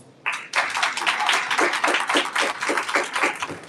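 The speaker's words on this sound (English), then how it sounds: "Give a round of applause." An audience at a talk on fatherhood breaks into applause, a dense burst of many hands clapping that starts suddenly and carries on evenly at close range.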